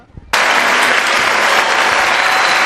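A crowd bursts into loud, sustained applause at a school and college award ceremony in Tumkur, the clapping starting abruptly after a brief quiet moment and continuing steadily and densely to the end.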